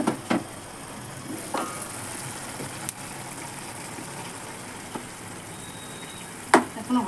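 Potato curry with green chillies and no spice frying in a pan, a soft steady sizzle with a few clinks and scrapes of stirring, quiet and close, no talking.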